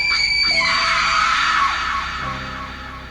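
A woman lets out one long, loud, high-pitched scream in a house in Bhubaneswar. The scream is sustained and gradually fades away.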